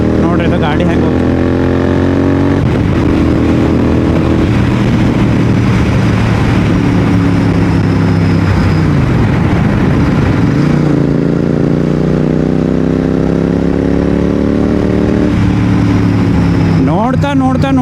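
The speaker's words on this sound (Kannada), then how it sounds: "ನೋಡ್ರಿ ಇದು ಗಾಡಿ ಹೆಂಗೆ ಹೋಗ್ತದೆ." A Royal Enfield GT 650 motorcycle is ridden with a loud, close engine drone that rises through the gears in repeated climbing sweeps, with wind rush throughout.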